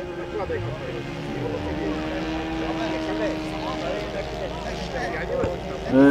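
A radio-controlled model fighter airplane flies at a model-aircraft picnic, its engine whine rising and falling as it banks and passes, heard under steady spoken commentary.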